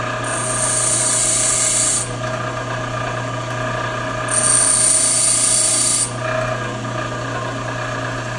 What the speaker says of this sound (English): Grinding is not one of the fastest operations in the world.